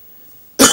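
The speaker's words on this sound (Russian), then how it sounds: "Вот болото так нас всех кашлять заставляют" A single sharp cough bursts in loudly near the end after near silence, close and abrupt.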